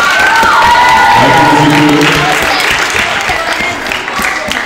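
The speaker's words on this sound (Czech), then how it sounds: "velký potlesk pro mě" An audience at a magic show applauds and cheers for the magician, loud clapping with shouts and excited voices, children among them, while someone speaks briefly over the noise.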